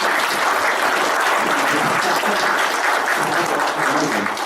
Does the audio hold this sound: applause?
yes